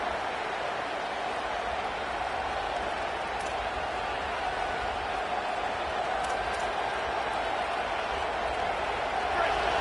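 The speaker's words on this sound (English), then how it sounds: "This crowd, full throat, splitting the eardrums and letting them know it's going to be a long day." Stadium crowd at a college football game in a rocking home venue, a dense, continuous roar filling the whole stretch at steady loudness, with a commentator talking over it.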